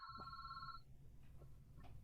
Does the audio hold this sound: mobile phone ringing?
yes